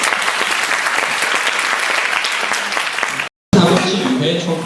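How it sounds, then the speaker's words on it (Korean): An audience at a school reading debate contest gives a burst of steady applause that cuts out briefly, then resumes with a voice speaking over it. "토론에 참여한 모든 분들께 박수를 부탁드리겠습니다."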